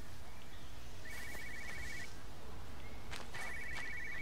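Telephone ringing in the video game Everybody's Gone to the Rapture, two bursts of a trilling bell, each lasting about a second, over a quiet ambient background.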